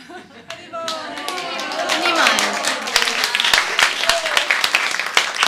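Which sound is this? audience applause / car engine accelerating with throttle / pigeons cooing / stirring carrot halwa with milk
audience applause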